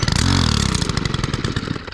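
A Stihl FS91R string trimmer is pull-started and its small engine catches, firing in loud rapid pulses with rattly clatter, very close and running on its own without talk.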